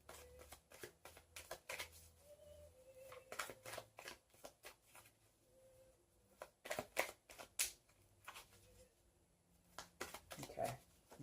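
Tarot cards being shuffled in quick bursts of riffling and flicking, close and fairly soft, with a few short spoken bits mixed in.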